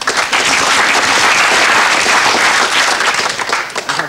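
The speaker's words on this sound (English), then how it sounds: "I want you to give him a nice big round of applause." A 1970s British television comedy show's studio audience applauds in a steady, dense wash of clapping that holds full and loud for about four seconds, then thins slightly toward the end.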